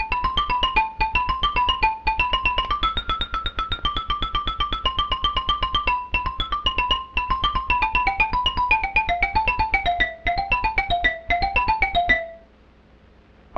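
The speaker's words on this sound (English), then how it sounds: "A xylophone is also silent until its wooden bars are made to vibrate." Xylophone wooden bars struck in a quick, steady run of bright tones that trace a melody, played alone and fairly loud before it stops and leaves quiet at the end.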